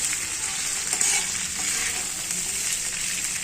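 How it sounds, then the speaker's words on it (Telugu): Cauliflower and garlic frying in a pan with oil, giving a dense, continuous sizzle and crackle at an even level throughout, close by, with faint stirring and no talking. "తర్వాత అందులో క్యాలీఫ్లవర్ వేసి బాగా వేగే వరకు వేయిద్దాం"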